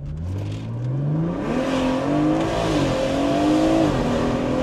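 A BMW M140i engine pulls hard under acceleration, its steady, loud roar rising in pitch through the gears, with a brief dip and climb between shifts.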